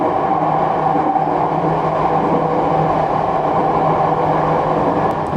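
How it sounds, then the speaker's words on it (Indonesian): A Jakarta MRT train climbs from the underground section toward the elevated track, its steady, loud rolling rumble and motor hum filling the car without a break. "kereta bergerak ke atas menuju jalur layang"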